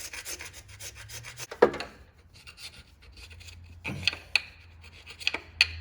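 A carbide scraper scrapes corrosion off an aluminum cooling system part from a 2007–2011 Honda CR-V, giving quiet, intermittent rasping strokes with a few sharper scratchy bursts and pauses between them, close by.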